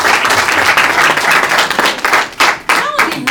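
Audience applause at a release party fills the room with dense, steady clapping, loud and close, with a voice briefly audible near the end.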